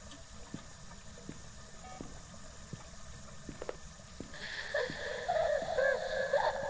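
Ghost groan in the horror video game Phasmophobia: faint clicks and knocks, then a low, wavering moan that swells in over the last couple of seconds.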